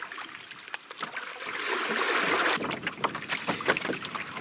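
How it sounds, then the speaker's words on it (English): Wind gusts buffet a canoe on a small lake in Norway, rising into a steady rushing roar with faint water sloshing and knocks against the hull. "this wind keeps turning my canoe all the time"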